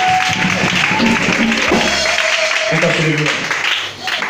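A church congregation applauds and cheers in praise of the Lord, a loud, continuous wash of clapping and crowd voices with a preacher talking over it throughout.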